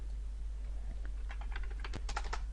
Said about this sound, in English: Type password and everything.